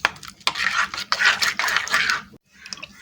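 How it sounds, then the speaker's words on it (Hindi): Gram flour is whisked into buttermilk in a bowl, giving rapid scraping and clinking strokes in bursts, with a brief pause before lighter strokes resume; no talking. "अच्छी तरह लस्सी के अंदर मिक्स कर रहे हैं।"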